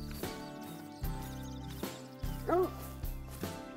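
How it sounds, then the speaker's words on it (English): A hunting dog barking in the video game Call of the Wild, several separate loud barks spaced about a second apart with a short whine among them, heard over a low ambient background. "He's barking."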